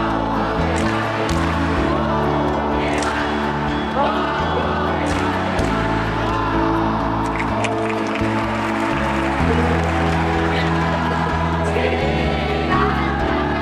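A crowd at an outdoor youth cross procession claps and cheers, a continuous loud roar of hands and voices. Steady music with a strong beat plays underneath.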